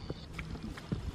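A few hollow hoof thuds in a loose trotting rhythm on soft ground, fairly faint and close, with quiet background noise.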